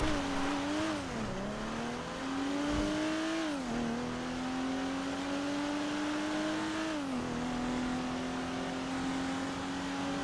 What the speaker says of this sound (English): that's a lot of traffic.